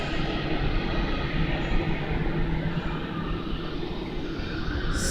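Airliner engines spooling up at Melbourne Airport, a steady broadband roar holding at constant loudness throughout with no voices.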